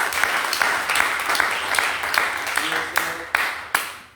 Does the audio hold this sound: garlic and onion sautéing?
no